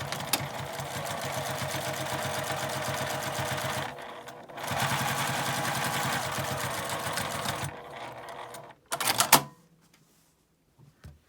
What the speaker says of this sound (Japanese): 表側に端ミシンをかけます